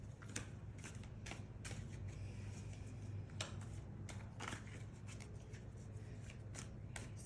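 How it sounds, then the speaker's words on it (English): Tarot cards shuffled by hand in a steady run of crisp riffles and soft slaps, close and fairly quiet, with no talking. "So I'm just shuffling now."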